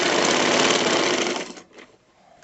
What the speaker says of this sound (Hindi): अब मैं इसको यहाँ से सिलाई लगाती हुई, ये देखें